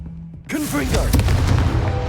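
A Confringo fire spell blasting in Hogwarts Legacy, a sudden loud burst after a brief quiet lead-in, followed by crackling, rumbling impact debris with a spoken incantation mixed in.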